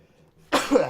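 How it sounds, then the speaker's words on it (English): A single sudden sneeze bursts out after a near-silent pause, loud and close, with a breathy, throaty tail. "I sneezed out of nowhere."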